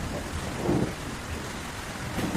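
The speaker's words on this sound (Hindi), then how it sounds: "इधर तेज तूफान और बारिश की वजह से भूरे और रीमा का भी घर टूट गया था" A cartoon thunderstorm with steady heavy rain hissing throughout and low thunder rumbles rolling in twice, fairly loud and unbroken.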